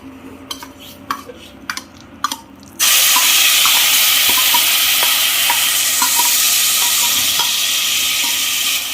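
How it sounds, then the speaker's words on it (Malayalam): Mashed banana sautéed in ghee for banana payasam: a few light taps and clicks, then a sudden loud, steady sizzle with scattered stirring knocks running through to the end. "എന്നിട്ട് നമ്മൾ വരട്ടിയെടുക്കുക. നെയ്യിൽ അതിങ്ങനെ നന്നായി ഇളക്കി."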